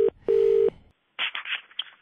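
A telephone ringing tone on a call plays as two clear, steady tone bursts, one brief and one longer, followed by a silent gap and then muffled line noise.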